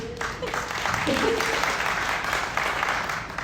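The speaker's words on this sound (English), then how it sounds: "Thanks for the applause" Audience applause at a live climate-themed storytelling show, a steady wash of clapping that swells and holds throughout, with a voice briefly audible over it near the start.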